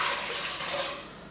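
Warm tap water runs steadily into a container to mix sugar feed, a continuous close hiss of flowing water that tapers slightly toward the end.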